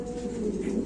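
Lahori double ring pigeons coo at a pigeon farm, a continuous low throaty rumble held close and steady for under a second, with no talking.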